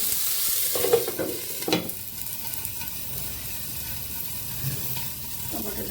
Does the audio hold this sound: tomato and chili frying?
yes